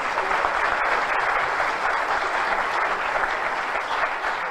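Sustained, dense applause from a large audience welcomes a speaker at a Greek event. The clapping stays even and continuous with no voices over it.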